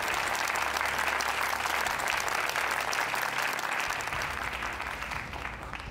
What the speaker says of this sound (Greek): Δώστε ένα χειροκρότημα στον Γιάννη